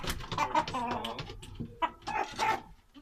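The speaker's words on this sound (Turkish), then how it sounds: "bu da bize Adana'dan hediye gelen bir horozumuz" A rooster gifted from Adana clucks in short bursts close by, with its repeated throaty calls spread through the few seconds.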